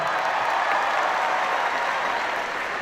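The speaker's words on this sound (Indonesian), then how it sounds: "Tepuk tangan semuanya." Sustained applause from a large crowd of university students filling a hall, steady and dense from start to finish with no break.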